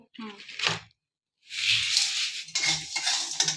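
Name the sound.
rice and lentils frying in a pan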